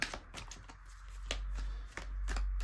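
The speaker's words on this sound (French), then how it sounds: "On va prendre une première carte." Oracle cards being shuffled and drawn from a deck, a string of crisp, close papery flicks and snaps.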